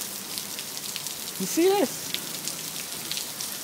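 Heavy rain falls steadily as a broadband hiss throughout, with a brief voice speaking over it midway.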